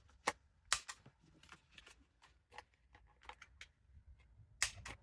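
Paper card is trimmed and its corners rounded with a punch, giving sharp, sporadic clicks and snips, a few louder cuts among fainter taps, close up and without talk.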